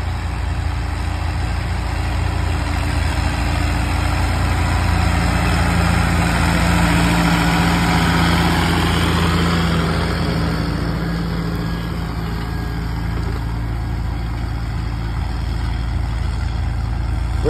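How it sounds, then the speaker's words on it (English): A large International 986 tractor engine runs steadily at a plow day, pulling an International 510 plow, with a deep, continuous rumble and drone, loud and close throughout, with no talking. "here comes an International 986 tractor at the plow day."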